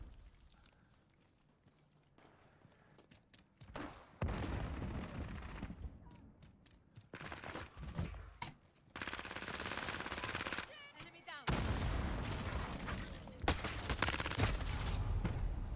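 Battlefield 2042 beta gunfire, repeated bursts of automatic rifle fire and single shots in close, loud clusters separated by brief lulls, with some faint chatter mixed in.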